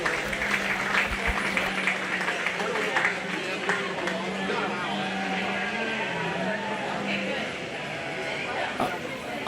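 A county fair crowd at a 4-H/FFA sheep and lamb show applauds the exhibitors, a moderate, steady clapping wash beneath an announcer's voice over a low hum.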